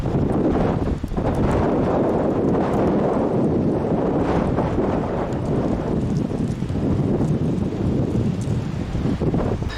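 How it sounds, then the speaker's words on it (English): Strong gusty wind buffets the microphone on a ship sailing on the River Thames, a constant loud rumbling roar that swells and dips throughout. "you can hear the gusting winds and the effect that it has on the camera"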